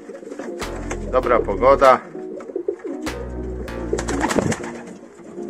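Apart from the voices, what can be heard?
pigeons cooing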